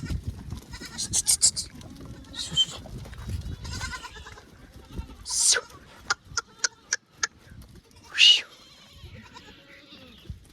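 Goats bleat repeatedly at close range, with several drawn-out cries and a run of short, sharp calls, while chickens cluck and people talk in the background.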